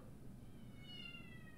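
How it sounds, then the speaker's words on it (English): A cat meows once, faint and distant, a thin rising-falling cry standing out over a low, steady background hum. "Meow."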